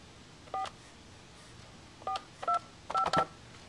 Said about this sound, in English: Okay, so what I'm going to do is I'm going to dial the phone. Got it on speakerphone so we can all hear.